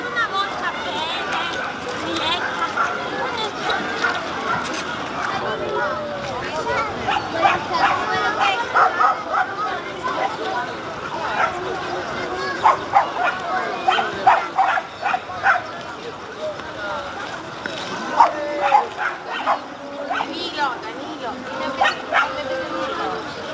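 Several dogs at a training session bark, yip and whimper in quick repeated bursts across the whole stretch, fairly close, with people talking beneath them.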